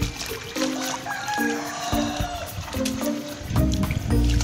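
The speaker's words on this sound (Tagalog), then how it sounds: "Yun guys, napakadaming tubig dito eh." Typhoon floodwater pours steadily through a cleared drain, a close, loud gurgling and splashing flow that swells near the end.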